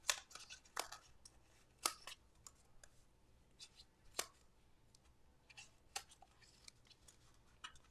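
Scissors cut paper and stencil pieces at a craft table, a scattering of quiet crisp snips and clicks spread irregularly over several seconds.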